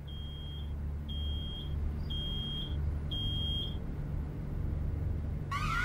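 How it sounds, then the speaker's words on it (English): An alarm in the Road 96 video game beeps in a repeated series of loud, high electronic tones, each about half a second long, over a steady low engine-like rumble, with a rising chirp at the end. "Oh no, something's beeping."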